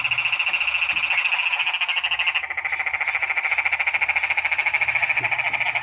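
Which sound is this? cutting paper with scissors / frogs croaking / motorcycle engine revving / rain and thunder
frogs croaking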